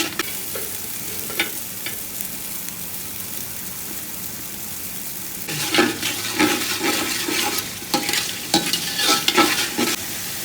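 Haleem spices fry and get stirred in a pan: a soft sizzle gives way to louder scraping, stirring and hissing in the second half, close and continuous with no talking.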